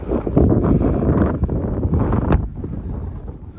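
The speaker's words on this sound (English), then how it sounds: "the wind has really whipped up" Heavy wind buffeting the microphone with loud, continuous low rumble and gusty surges, easing slightly toward the end.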